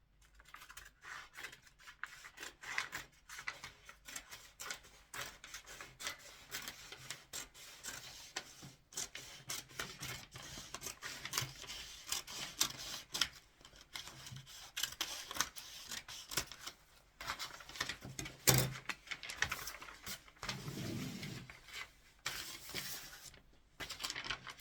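Scissors cut through a paper dress pattern for a high-waist pleated bubu gown, with steady close-up snipping and rustling paper in a quiet room and no talking.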